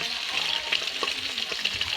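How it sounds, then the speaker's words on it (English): A big spoonful of sofrito sautéing in hot oil in a cooker pot crackles with a close, constant sizzle, dotted with small pops and light stirring scrapes. "So I have oil in here, and I'm gonna saute the sofrito, about a big spoonful."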